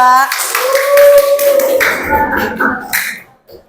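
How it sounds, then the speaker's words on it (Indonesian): A classroom of students clapping for a group, a short burst of close, bright handclaps mixed with voices and a whistle-like cheer, tapering off after about three seconds. "tepuk tangan untuk kelompok 2"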